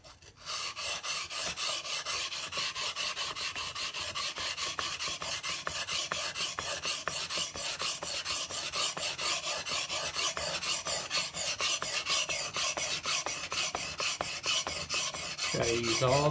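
A steel knife blade grinds steadily across a coarse Shapton glass whetstone, making a continuous close, loud, even rasping scrape that runs almost unbroken for about fifteen seconds before stopping.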